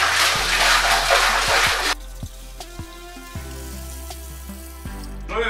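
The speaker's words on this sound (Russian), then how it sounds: "Заливаем наши 20 литров сразу же." Twenty liters of liquid are poured for brewing a wheat and buckwheat ale, with a loud rushing stream at first, then quieter splashes and clunks of vessels and equipment.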